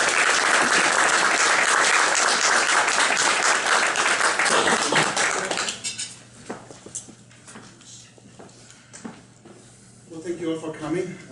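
Loud, dense audience applause greets a presenter at a Walt Disney museum exhibit talk, continuing strongly for several seconds before tapering into scattered claps, with voices murmuring underneath.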